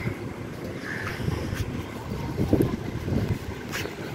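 Rain starting to fall outdoors makes a steady broadband hiss with gusty wind buffeting the microphone. Soft patters come and go over the whole stretch.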